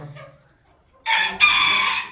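A rooster, one of three kept birds, crows loudly and close by in a single drawn-out call that breaks briefly in the middle, after a moment of near quiet.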